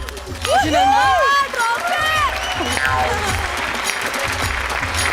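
Loud applause from a comedy show audience after a guest is invited on stage, a dense sustained wash of clapping with voices talking over it near the start.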